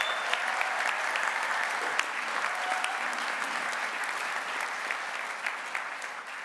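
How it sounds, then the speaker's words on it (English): A graduation audience at a Saybrook University commencement ceremony applauds steadily, a dense continuous round of clapping that stays even and moderately loud throughout, with no voices standing out. "a quick round of applause for all of those who have supported your journey"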